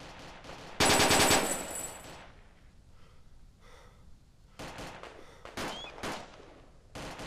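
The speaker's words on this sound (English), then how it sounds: "hold position and return fire" Bursts of automatic gunfire ring out in a military video game: one loud close burst near the start, then quieter rattling and several later shorter volleys, with breathing between.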